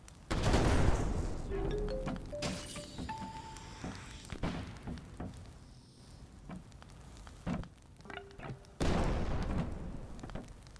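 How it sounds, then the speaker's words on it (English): Video game explosions as a gas station and barrels are blown up, several heavy booms and bursts scattered among gunfire-like cracks and debris, with a loud blast near the start and another near the end. "I blew up the gas station."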